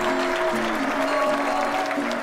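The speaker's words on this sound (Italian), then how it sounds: "Un grande applauso." An audience applauds steadily, a dense wash of clapping that carries evenly throughout.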